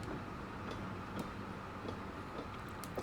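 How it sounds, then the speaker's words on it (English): A train rolls along steadily in Pathologic 2, a continuous rumbling ride with faint periodic clicks and ticks over the track, no voices. "No one sells tickets to ride this train?"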